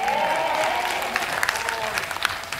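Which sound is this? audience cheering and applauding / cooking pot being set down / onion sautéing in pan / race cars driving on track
audience cheering and applauding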